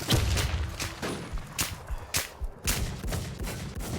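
Rapid bursts of gunfire in the survival shooter game Warz, several sharp cracking volleys in quick succession with brief gaps between them, moderately loud.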